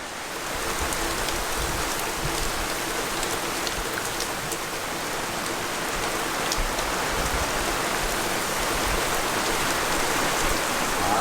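Steady, heavy rain hisses continuously on surfaces, with scattered individual drops pattering through the dense wash of sound.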